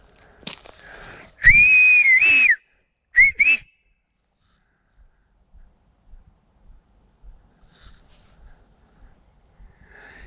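Person whistling loudly in a forest to call an American Akita dog: one long sharp whistle followed by two short bursts, then quiet woodland with faint rustling.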